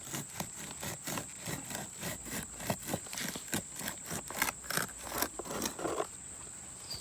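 A banana pup is cut away from its parent plant with steady, rhythmic scraping and chopping strokes, close up and repeated many times over a faint constant background hiss.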